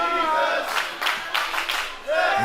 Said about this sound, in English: You hear the crowd already